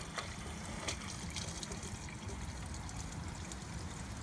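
Water drains steadily from a roof gutter clogged with wet leaves and summer debris, a continuous close trickle and gush with faint splashes, without talk.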